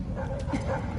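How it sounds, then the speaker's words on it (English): Dogs bark and whimper in an Ace Combat 7: Skies Unknown cutscene, a short burst of close canine yips over a low rumble. "set the dogs on me."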